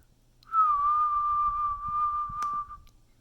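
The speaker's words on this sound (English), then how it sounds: "that's just me whistling" A person whistles one long steady note, held for about two seconds before trailing off, with faint background noise underneath.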